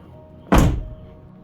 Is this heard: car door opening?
yes